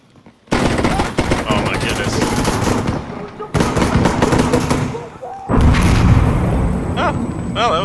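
Heavy gunfire and explosions from the Insurgency Sandstorm combat game, loud and near: bursts of rapid automatic fire and booming blasts in three long sustained stretches separated by brief pauses.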